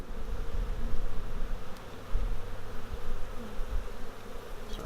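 A honey bee swarm drones steadily at close range, a dense continuous buzz with small swells and no voices over it.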